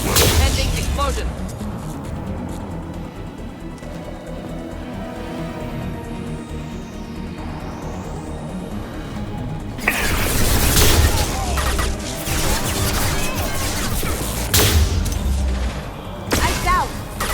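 Explosions and weapon bursts in the Mass Effect 2 Legendary Edition battle on Pragia, with rumbling booms and crackling blasts swelling loudly in the second half over a steady game soundtrack.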